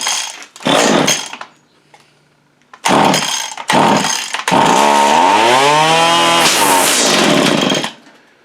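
Stihl FS85 Pro string trimmer starting up and running, with loud bursts of engine revving, a short pause, then a sustained rising and falling whine as the spinning string strikes something.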